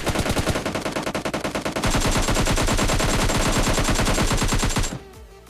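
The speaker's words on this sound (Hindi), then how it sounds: "अब यहाँ पर क्या होता है कि मेरी M4 रिलोड पे आती है, लेकिन फिर भी मैं एक एम स्विच करके निपटा देता हूँ इस बंदे को" M4 rifle firing in PUBG Mobile Lite, a long rapid automatic burst of loud, close shots that runs for several seconds and then cuts off abruptly, with no talk.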